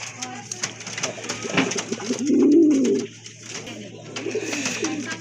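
A pair of Danish pigeons in white tiger coloring coo close by, one drawn-out rolling call standing out in the middle amid other softer coos, with a faint steady hum underneath.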